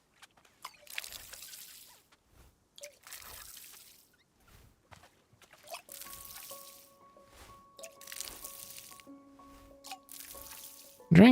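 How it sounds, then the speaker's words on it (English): A plant being watered in the video game Wanderstop, with soft, sparse drips and trickles of water coming in separate bursts. Quiet chime-like tones sound faintly underneath. "I'll just keep watering it"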